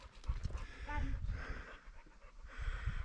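A dog pants in quick rhythmic bursts on a mountain trail in the Donovaly area, heard near and moderately loud, with faint voice-like sounds and movement around it.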